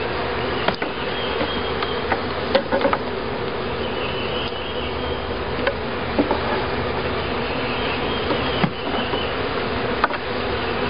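Bees buzz around a beehive box, a steady, dense drone close by with occasional sharp knocks and clicks, no voices.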